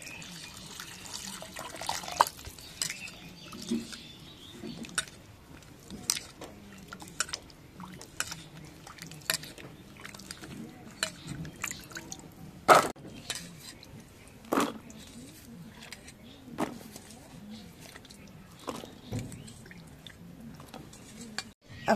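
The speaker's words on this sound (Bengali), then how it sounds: "এখন আলুটা ধুয়ে নেই" Potatoes being washed by hand in a bowl of water, with irregular splashes, sloshing and knocks against the bowl, close, under a tap's steady background flow.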